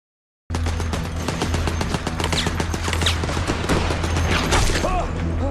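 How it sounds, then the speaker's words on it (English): Sustained battlefield gunfire from a World War I documentary, dense fusillade and machine-gun bursts rattling continuously over a low rumbling drone, loud and unbroken throughout. "Shot again."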